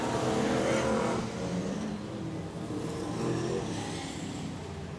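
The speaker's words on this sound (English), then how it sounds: "Cars right around the racetrack at the moment" Racing engines of enduro race cars drone and roar steadily around Archerfield Speedway, a loud pass fading into a continuous distant hum of several cars.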